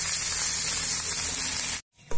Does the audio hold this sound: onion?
yes